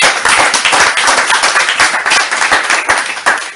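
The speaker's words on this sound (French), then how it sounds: "Applaudissons pour le Seigneur pour cette parole." A church congregation claps loudly and continuously, dense close-up applause from many hands that runs the whole short stretch without a break.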